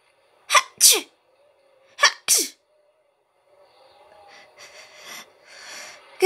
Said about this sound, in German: falls wirklich jemand noch mal niesen sollte.